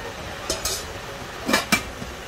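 Pieces of a non-stick cookware set, a wok and frying pan, being handled and set down, a few light metallic clinks and knocks close by in a quiet room.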